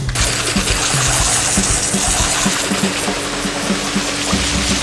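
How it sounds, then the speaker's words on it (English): Water runs steadily from a tap while hands are washed, a continuous close splashing stream at fairly loud level for the whole stretch, with light irregular splatter on top. "Wash my hands first."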